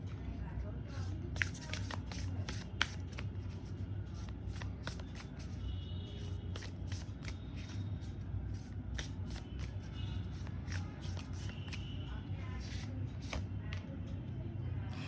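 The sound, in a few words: shuffling a tarot card deck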